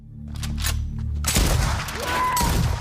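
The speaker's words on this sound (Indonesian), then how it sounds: "John pun langsung menembak beberapa penyusup yang sempat bersembunyi di rumahnya itu" Gunshots ring out as a man fires on intruders hiding inside a house, a sharp burst of loud, close shots following a low droning rumble.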